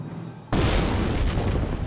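A sudden heavy mortar boom in the World War II strategy game Command of Heroes hits after a quiet half second, then a broad rumbling decay fills the rest of the short moment.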